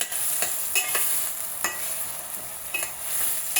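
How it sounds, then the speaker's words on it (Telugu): Onions with a pinch of salt fry in a pan, giving a continuous hiss. A few spoon scrapes break in now and then, close up and with no one speaking. "కొంచెం సాల్ట్, ఉల్లిపాయలు మగ్గడానికి కొంచెం సాల్ట్ వేద్దామండి."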